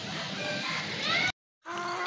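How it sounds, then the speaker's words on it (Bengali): Chickens, two hens and a rooster kept as laying birds at a bird seller's, make loud, continuous clucking and squawking close by, cutting off briefly before resuming. "এখানে কিন্তু 3 পিস মুরগি আছে। দুইটা হচ্ছে মুরগি, একটা হচ্ছে মোরগ।"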